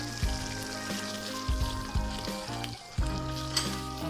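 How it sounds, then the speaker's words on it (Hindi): Spices, nigella seeds and salt sizzle and fry steadily in hot oil for butter chicken, a close, continuous crackle with a few soft stirring thumps. "सब चीज़ों को अच्छे से हम भून लेंगे।"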